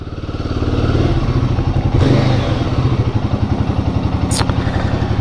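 A Royal Enfield Guerrilla 450 motorcycle rides slowly into a garage, its single-cylinder engine thumping in a loud, close, rhythmic idle-like beat with a brief clatter partway through.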